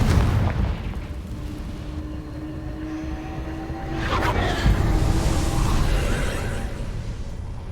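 A Confringo explosion spell goes off in a Hogwarts video game: a rumbling blast with booming impacts, swelling louder midway and continuing as a low roar.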